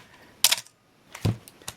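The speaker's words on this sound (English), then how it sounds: "step down through these shutter speeds, starting at 1/1000th of a second here" A Canon AE-1 shutter fires at 1/1000 second with a sharp, close mechanical clack, then a second clunk follows about a second later as the mechanism resets, heard alone in a quiet room.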